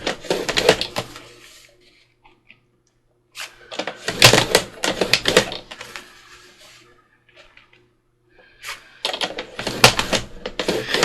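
Thick cardstock being scored along a pencil line for a no-sew journal, heard as three bursts of scraping strokes separated by quiet gaps, fairly close, with no talk.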